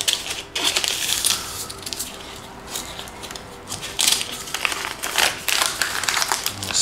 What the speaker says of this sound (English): Let's take this paper off the strings here.